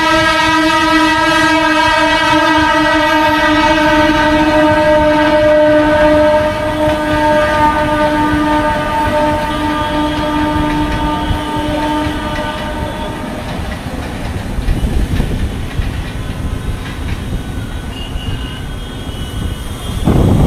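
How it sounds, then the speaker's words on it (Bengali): Local train approaching near Shalimar on an Indian suburban line, its sustained multi-tone horn blaring for about twelve seconds before giving way to a rising rumble and clatter of wheels as the train draws close, loud throughout. "একটা লোকাল ট্রেন আসছে"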